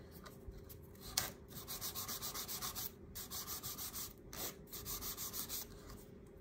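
A nail file rubs across the top of an acrylic nail in quick, rhythmic strokes, a close, soft scratchy rasp in several bursts separated by brief pauses.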